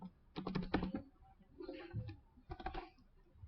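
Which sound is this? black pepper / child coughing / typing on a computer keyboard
typing on a computer keyboard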